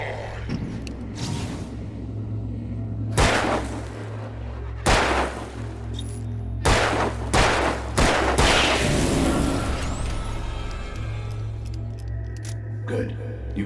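Gunfire in Alan Wake, about half a dozen sharp, loud shots spaced a second or two apart over a low droning backdrop, with a metallic jangle and ringing tail near the end.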